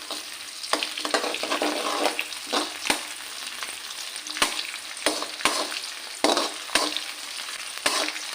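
Split green chillies frying in oil for fish pickle, a continuous close sizzle punctuated by sharp spatula clicks and scrapes at irregular intervals, with no voices over it.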